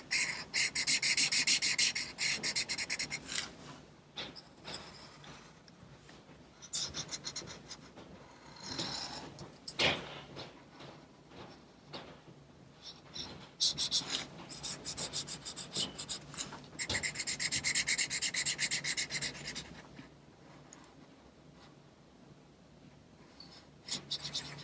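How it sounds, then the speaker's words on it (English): A marker or crayon scrubs steadily back and forth across paper, coloring a paper dragon puppet green; close, dry rasping strokes come in dense bursts with short pauses between passes. "this obviously will only be coloring the one side, so I'll have to go back and color in the other side after we cut it out"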